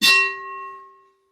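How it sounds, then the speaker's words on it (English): A single bright metallic ding, a notification-bell sound effect with a sharp clanging attack and a clear ringing tone that fades out within about a second, alone and loud. "Hit that notification bell."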